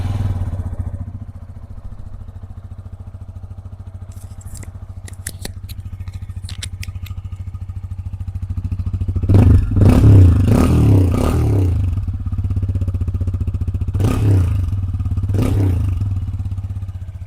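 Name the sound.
TVS Apache RTR 160 2V motorcycle exhaust idling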